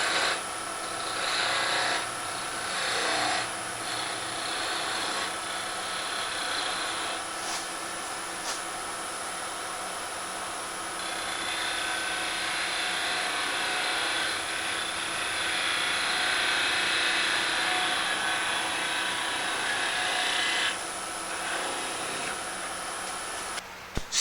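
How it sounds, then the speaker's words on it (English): A small wooden acorn box on a lathe is parted off and its tip sanded, giving a steady whirring rasp with shifting friction noise that swells and eases over about twenty seconds, with no talking. "All that's left is parting it off and sanding the little tip."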